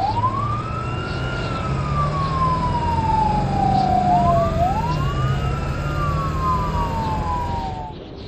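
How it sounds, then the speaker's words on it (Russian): Ambulance siren from a children's cartoon about vehicles, a loud continuous wailing tone that sweeps up and down in long slow cycles, steady and close throughout with no talk. "Не обойтись нам без помощи, машины скорой помощи."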